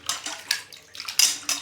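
Raw mutton being mixed by hand in water inside a metal vessel, giving close clinks and scrapes with splashy water sloshing in quick irregular strokes, and no talking.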